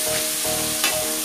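Pancit canton noodles sizzle steadily in a hot pan while being stirred, a continuous loud fry hiss with a brief scrape of the utensil midway, and no talking.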